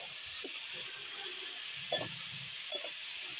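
Cauliflower fries in a pan with a faint, steady hiss and sizzle, broken by three brief louder spits and crackles at spaced moments.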